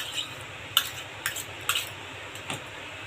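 Beaten egg with salt is stirred in a bowl, giving four or five light, sharp clinks of a utensil against the bowl spaced across a quiet background.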